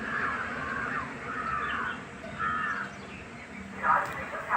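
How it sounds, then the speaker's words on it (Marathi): A crow caws several times in harsh, drawn-out calls at a moderate distance, with faint murmuring voices and background noise underneath. "किती मस्त काऊ आहे बघ"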